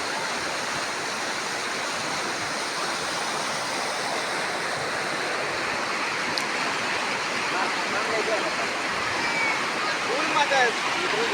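Rainwater pours steadily over a village bridge in Banswara, Rajasthan, a continuous broad rushing wash like a waterfall that stays loud and even throughout.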